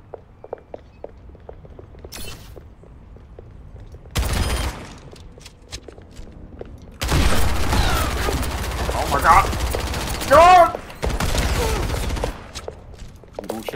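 Sniper rifle shots from Widowmaker in Overwatch 2 come as several sharp, loud cracks with bursts of gunfire and in-game effects between quieter footstep-like stretches, while a player talks excitedly over the action.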